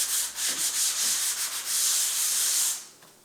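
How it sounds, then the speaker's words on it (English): A hand sander works drywall around electrical outlets, a steady abrasive rubbing in short repeated strokes, then one longer continuous pass before it stops. "Now you got to come around all these outlets with this hand sander."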